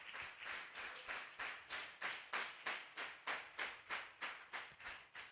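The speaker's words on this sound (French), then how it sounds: "Applaudis pour le Seigneur." A church congregation claps together in a steady, even rhythm, about two to three claps each second. The sharp, uniform claps are heard at a distance and fairly faint, with no talking.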